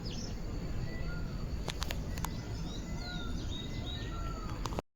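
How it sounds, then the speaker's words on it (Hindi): Several faint peacock calls drift in from a distance over a constant outdoor hiss in Haridwar, with a few sharp clicks partway through. "बहुत मोर की आवाज़ आ रही है"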